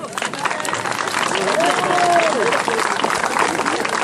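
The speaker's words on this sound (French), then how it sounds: "Vous pouvez l'applaudir, hein?" A live audience applauds a man at a village Cornards show in 2019, dense clapping and crowd noise swelling steadily across the whole stretch, loud and close, with a faint voice or whistle-like tone riding over the middle.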